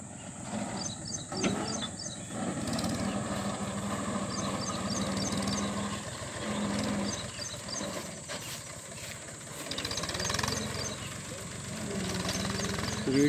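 A 1998 Mahindra 265 DI tractor engine runs continuously under load, giving a steady, moderately loud mechanical rumble with a low hum and some rattling throughout.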